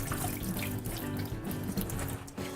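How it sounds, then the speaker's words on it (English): Tap water runs steadily into a sink as baby kale and chopped romaine lettuce get a quick rinse, a continuous close splashing stream with light patters of water hitting the leaves. "I'm gonna give it a quick rinse."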